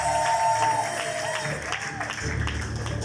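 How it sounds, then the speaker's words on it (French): Guests at a civil wedding ceremony applaud and cheer after the couple is declared married, a crowd of clapping under lingering tones and murmuring, moderately loud in a hall. "Sous vos acclamations"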